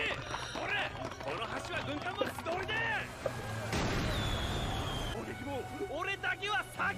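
A barrage of explosions from bombs in a One Piece anime episode, loud, heavy blasts layered under excited voices and cartoon effects.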